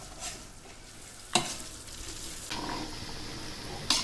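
Ghugni, a dried peas curry, frying in a pot at a festival food stall while being stirred, with a steady sizzle broken by two sharp scraping stirs of the spoon, close and continuous.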